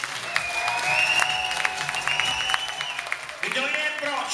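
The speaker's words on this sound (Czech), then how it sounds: "Kdo je pro modrý roh? Zatleská teď." An indoor fight crowd applauds for the blue corner, dense steady clapping with whistles and shouts that fades out and then swells again near the end.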